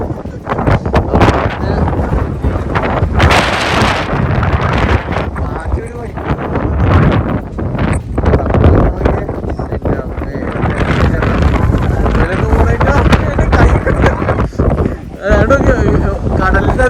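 Strong wind buffets the microphone in loud, continuous gusts at Khor Fakkan beach in the UAE while people talk over it the whole time.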